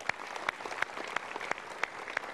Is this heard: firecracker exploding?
no